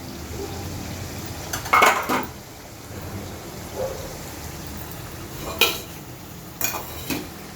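Bitter gourd jaggery curry gets served into a bowl: a few sharp clinks and scrapes of a spoon against the pot and bowl, spaced apart over quiet kitchen background with no talking.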